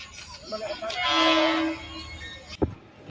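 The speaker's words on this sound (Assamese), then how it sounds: "এইয়া চাওক, ট্ৰেইন আহি পালে, সময়তে আহি পালে" A train pulls into a small rural railway station, a sustained rumbling roar building to a loud peak with a steady horn-like tone, then a sharp thump as it eases off, with a crowd faintly around.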